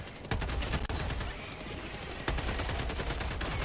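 Sustained machine gun fire in Helldivers 2, a dense rapid stream of close shots that stutters briefly and then resumes, loud and continuous throughout.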